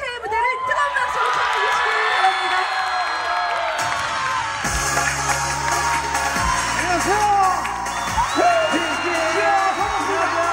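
A large crowd at a seafood festival opening ceremony cheers and whoops loudly, with a musical backing track underneath and a voice shouting over the noise.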